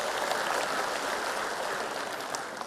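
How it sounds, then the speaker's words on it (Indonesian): Audience applause at an Indonesian political party gathering, a dense wash of clapping, steady and moderately distant, with no voices over it. "Tepuk tangan untuk Pak Mardiono."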